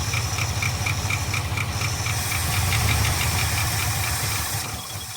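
An abandoned 1975 Ford F500 rollback truck engine idles roughly nearby, running without a radiator, with a steady rhythmic ticking from one rocker over a hissing, rumbling drone, no voices.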